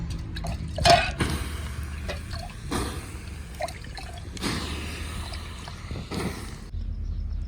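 Water splashed and poured over burning firewood in a village yard, giving dripping, trickling and hissing splashes in several bursts over a steady low background, fairly close, with no talk.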